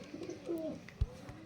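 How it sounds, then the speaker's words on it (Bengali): A Panjabi pigeon gives a soft, low coo from close by, followed by a brief thump, with no voices. "এ হচ্ছে সেই কবুতর"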